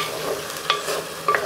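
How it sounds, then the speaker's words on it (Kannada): Onion frying in a pan for chana masala makes a close, steady sizzle, with a few sharper stirring scrapes. "ಇದು ಆನಿಯನ್ ಈಗ ಅರ್ಧ ಫ್ರೈ ಆಗ್ತಿದೆಯಲ್ಲ"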